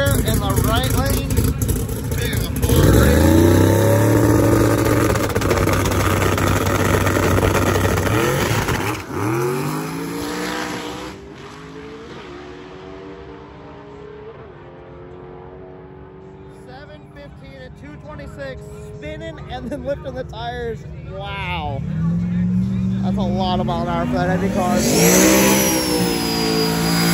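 Radial drag race cars at a Sick Week event: a loud, raw engine roar revs hard, then fades away into the distance before another engine swells back up, with voices talking over the noise.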